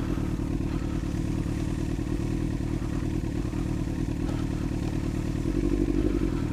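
A motorcycle rides slowly along an icy, snowy road with the clutch pulled in to shed speed, giving a steady, close mid-pitched engine drone with light clatter that swells slightly near the end.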